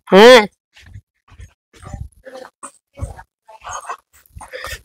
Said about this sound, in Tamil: ஒண்ணு இந்த நாய்க்கு அங்க போனதுக்கு அது கத்திக்கிட்டு கிடந்திருக்குது. குட்டி நாயா இருந்திருக்கும்.